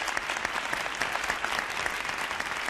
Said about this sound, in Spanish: Ese fuerte aplauso para un hombre que lleva 20 años en la radio